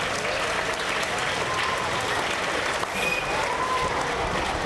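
A theatre audience in Suzano giving a steady round of applause, dense and even clapping from many hands at moderate distance, continuing without a break.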